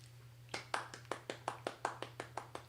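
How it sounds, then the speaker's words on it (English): A slow, quiet golf clap, about a dozen single claps at an even steady pace, soft and close in a quiet room with a low hum behind. "Golf clap."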